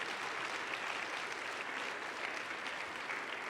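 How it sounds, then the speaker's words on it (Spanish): A church congregation at a Sunday sermon applauds together, producing a continuous, even roar of many hands clapping at a moderate distance, with no break throughout. "Dale un aplauso al Rey de Reyes y al Señor de Señores."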